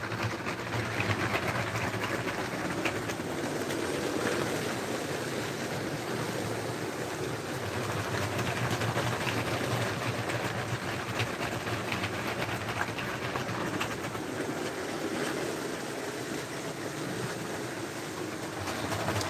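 Lego trains run around a home layout, giving a steady low rumbling clatter of wheels and track that continues evenly, close by and moderately quiet, with no talking.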